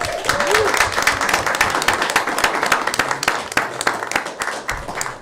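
Steady, full applause fills a board meeting room, many hands clapping at once at close range, holding an even level throughout with faint voices underneath.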